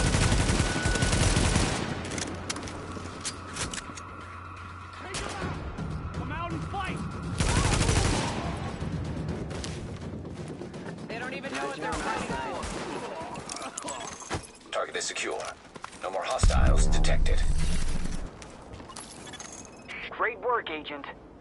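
Automatic gunfire from the video game The Division, sustained bursts of rapid shots with loud blasts over a busy combat mix, with voices talking throughout.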